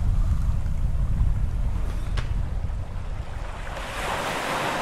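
Ocean waves wash against a desert island in the horror video game Manny's, a loud, steady surf roar with wind that eases slightly toward the end.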